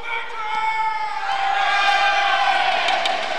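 A large crowd roars and cheers in a packed arena during a women's university basketball game, the sound swelling and holding loud for a few seconds.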